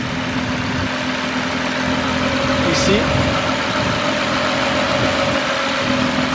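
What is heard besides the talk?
Nissan VR38 engine idling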